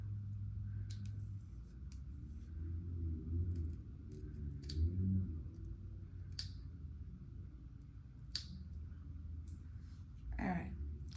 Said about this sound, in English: So now we cut the lace.